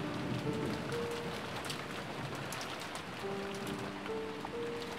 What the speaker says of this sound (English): listening to the sound of the rain